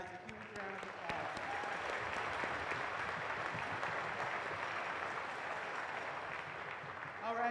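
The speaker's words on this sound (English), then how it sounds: "I want to give you guys a huge round of applause" An audience at a closing ceremony applauds, a dense, sustained wash of clapping that swells quickly and holds steady for several seconds, fairly distant and even.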